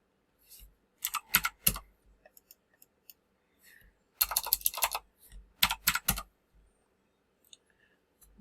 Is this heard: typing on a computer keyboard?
yes